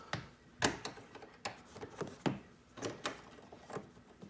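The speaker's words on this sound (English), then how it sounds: "So, we're going to use a wrench to take it off." A 10mm wrench turning a nut on a Toyota Camry side mirror, heard as faint, irregular metallic clicks and ratchet-like taps spaced out over a few seconds, close and quiet with no talking.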